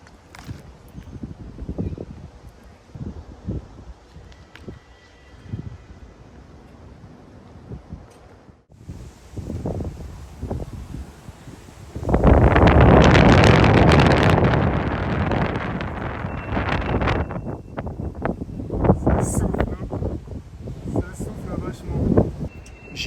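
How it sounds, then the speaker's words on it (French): Wind gusts across a microphone high on a city apartment building in Sochi, on Russia's southern coast, with bursts of loud rushing buffeting between stretches of talking and quieter background. "là le vent souffle"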